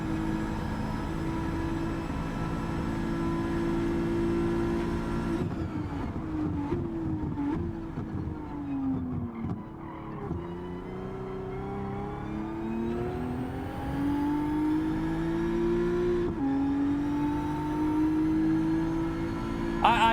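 A race car engine in Gran Turismo 7 screams at high revs, drops sharply on downshifts and braking, then climbs again through the gears, loud and continuous for about twenty seconds.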